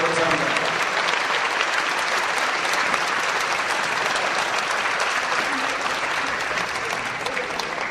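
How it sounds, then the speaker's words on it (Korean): A large audience applauding at a church denomination's anniversary thanksgiving service and installation ceremony, dense sustained clapping that fills the whole stretch at an even loudness, with a brief voice at the very start. "박수해 주세요."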